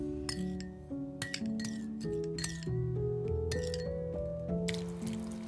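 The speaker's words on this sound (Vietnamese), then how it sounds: "Khuấy cho tan đường." A spoon clinks repeatedly against a bowl while stirring sugar into a dressing of lime juice and chili sauce, bright ringing taps in quick irregular succession, close and fairly clear.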